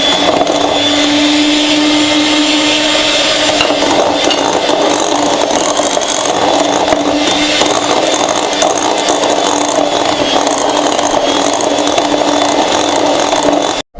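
An electric hand beater whirs steadily and loudly while beating biscuit batter made with dry milk, running without a break for the whole stretch before cutting off abruptly at the end.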